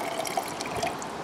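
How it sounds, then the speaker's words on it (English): Filtered water is poured into a shallow-well pitcher pump, giving a continuous trickling, dripping fill with small splashes, steady and close. "When you pour this in, it is slowly filling."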